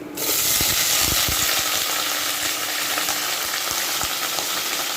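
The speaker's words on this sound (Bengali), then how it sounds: "কড়াতে তেল দিয়ে দিয়েছি তেল গরম হয়ে গেছে তেজপাতা পাঁচফোড়ন দিয়ে দিয়েছি এরপর ঢেঁড়স আর আলুটা দিয়ে দেবো" Okra and potato pieces fry loudly in hot oil with bay leaf and panch phoron in a kadai, giving a steady, close, dense sizzle that runs without pause and carries occasional soft stirring knocks underneath.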